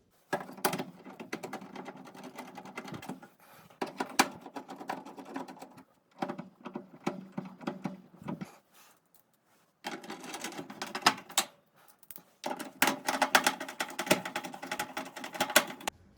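Screws being driven back into a clothes dryer's housing, front and back, giving bursts of clicking, ratcheting mechanical noise separated by short pauses.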